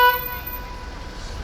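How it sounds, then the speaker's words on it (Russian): A car horn honks in a furniture market parking lot amid an argument over a space, a brief bright toot at the start that fades quickly into a low traffic rumble. "Тут еще ругаются за место, сигналят."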